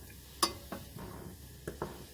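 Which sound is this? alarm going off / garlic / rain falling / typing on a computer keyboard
garlic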